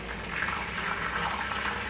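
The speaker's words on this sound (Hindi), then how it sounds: "ये जो नमक का पानी है वो डालते समय आप जरा दूर रहिएगा" Salt water hits hot oil while banana chips fry, giving a steady bubbling hiss and sizzle that stays moderately loud and close throughout, with no talking.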